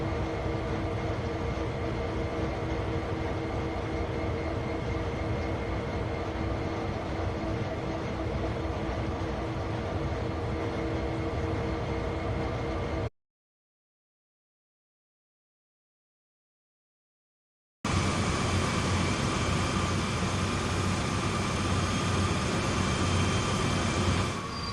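A GE AC4400CW diesel locomotive in the simulator Train Sim World 2, on the Sand Patch Grade, with a steady loud engine drone and rolling rumble, broken by a few seconds of silence before the same heavy drone resumes.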